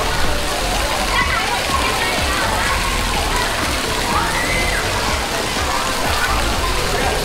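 Water slides in a cruise ship kids' play area splash and rush in a continuous, loud wash of falling water, with no clear voices over it.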